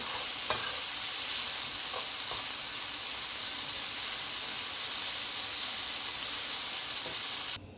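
Chicken frying in a pan for Jamaican-style shrimp and chicken fried rice, a steady close sizzle with occasional stirring taps, running alone before stopping suddenly.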